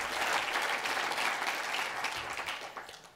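Audience applauding at the Voices of Solidarity event for Ronan Farrow: a dense, steady wash of many hands clapping, fairly distant and sustained, fading slightly toward the end.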